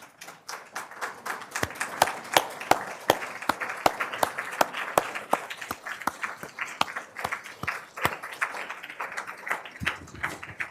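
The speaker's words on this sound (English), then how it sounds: "If you could stand up and give them a round of applause." An audience at a white coat ceremony applauds, with brisk, close hand claps that are loud and sustained at first and then thin out toward the end.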